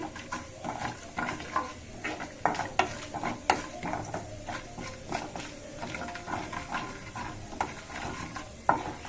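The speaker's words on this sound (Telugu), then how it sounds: "కొంచెం వేగాలండి" Fenugreek leaves and tomato curry frying in a pan, with a low, steady sizzle under irregular stirring scrapes and clinks against the pan, close and fairly quiet, no voices.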